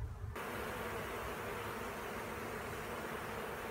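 A honey bee colony buzzes steadily during a hive cut-out as slats are removed, a dense continuous hum that sounds close and even throughout, with no voices.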